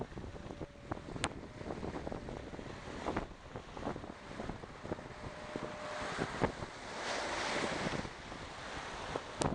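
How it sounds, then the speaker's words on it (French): Heavy open-sea waves break and crash around a small racing sailboat in strong wind during the Mini Transat offshore race, with constant wind rush buffeting the microphone and sudden water slaps and surges, loud and close, with no talking. "Ouais, il y a des belles vagues."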